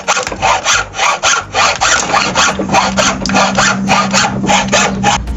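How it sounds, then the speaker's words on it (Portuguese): Hacksaw cutting through wood by hand, a quick run of rhythmic rasping back-and-forth strokes, loud and close, with a faint low hum joining partway through. "Existe também o arco de serra, que é para você cortar metal em geral, mas você pode cortar madeira também"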